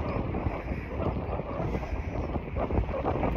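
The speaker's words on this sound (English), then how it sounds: "I hope you can hear me with the wind." Wind buffeting a microphone on an outdoor walk, a continuous loud rumbling roar with gusty surges and no voice over it.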